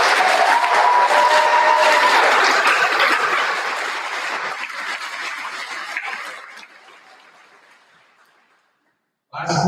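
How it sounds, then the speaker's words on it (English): A high school graduation audience applauds a graduate joining military service, loud sustained clapping that gradually thins and fades out over several seconds into silence. "let's give him another round of applause."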